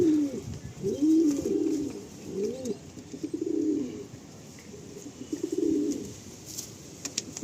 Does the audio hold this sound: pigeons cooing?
yes